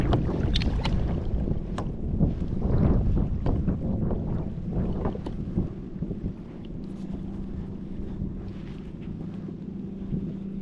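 Bass boat out on a lake, a low steady engine rumble and water wash under gusty wind buffeting the microphone, with knocks and splashes early on, fairly distant and continuous with no talk.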